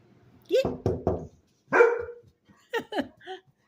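A dog on a porch gives a quick run of three sharp barks, then a single louder bark, followed by a couple of softer yips, all fairly close and moderately quiet, with no talking.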